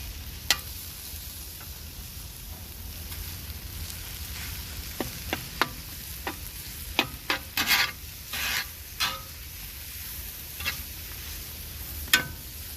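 Ground beef frying in a pan for stuffed peppers, a steady soft sizzle with scattered scraping clicks and taps as a utensil breaks up the meat, close and without talk.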